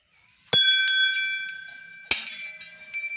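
Temple bell struck twice inside a Hindu shrine, each bright metallic strike ringing out loud and close with long shimmering overtones that decay slowly.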